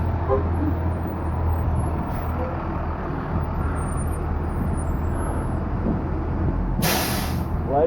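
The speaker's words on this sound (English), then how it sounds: "Here come the buses, maybe?" Buses arriving amid road traffic, a steady low engine rumble throughout with a sharp loud hiss of air brakes near the end, heard nearby and outdoors.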